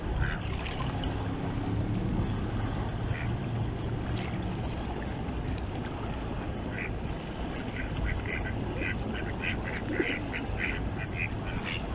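Ducks quack repeatedly at close range while being fed bread on a flooded riverside embankment, scattered calls rising over a constant wash of water and outdoor noise.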